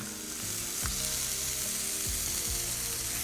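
Steak sizzling in a hot pan on a Stoke Nomad portable campsite cooker, a steady close frying hiss with a few faint clinks of a utensil.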